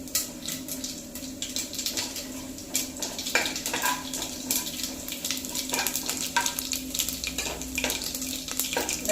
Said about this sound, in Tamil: ஜீரகமும் பொரிஞ்சிட்ருக்கு. இப்போ கடலைப்பருப்பும் உளுத்தம் பருப்பும் சேர்த்துக்கிறோம்.